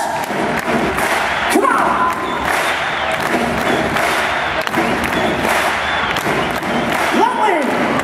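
A large arena crowd at a handball cup opening ceremony in Scandinavium, Gothenburg, making loud, dense cheering and clapping with thumping beats, while a host shouts over it.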